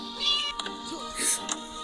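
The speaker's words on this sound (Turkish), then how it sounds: "Pisi seni kurtaracağım pisi pisi." A cat meows a couple of times in the Scary Teacher video game, short high cries mixed with someone talking over the game.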